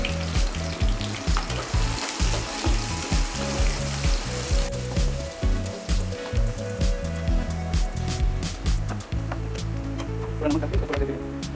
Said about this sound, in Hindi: जब तक ये प्याज फ्राई होता है